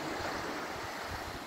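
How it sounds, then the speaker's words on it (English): Ocean waves wash onto a sunny beach in a steady, broad rush of surf that stays fairly constant over the short moment, with faint wind across the microphone and no voices. "That's the sound of the waves."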